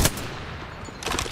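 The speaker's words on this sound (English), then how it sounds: "Whoa, getting shot at." Sharp bursts of enemy gunfire in the game Apex Legends, a loud crack at the start followed by a rapid flurry of shots about a second later.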